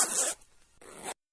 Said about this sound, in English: now pull the zipper